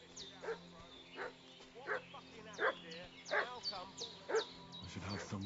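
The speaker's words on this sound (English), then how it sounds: "What's that dog making such a fuss about?" A dog in Kingdom Come Deliverance 2 barks repeatedly in an agitated, fussing series of short yelps and woofs over a bed of medieval game music.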